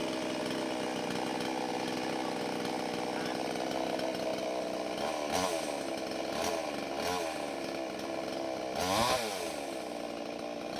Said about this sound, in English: Point the chainsaw to a wood and press the throttle.